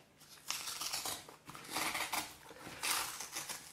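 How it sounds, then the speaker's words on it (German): Cardboard and plastic packaging rustling and scraping while a 2011 Amazon Kindle e-reader is unboxed, several bursts of crinkling and sliding up close, no speech. "wir wollen den neuen Kindle mal auspacken"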